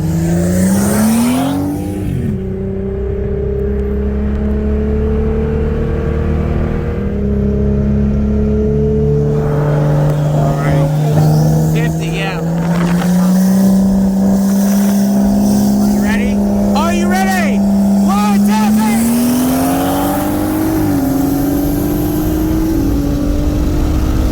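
A 2017 Nissan GT-R on E85 fuel racing a 2017 BMW 340i from 50 mph: a loud, steady engine drone rises in pitch as the cars accelerate, with wind rush over it.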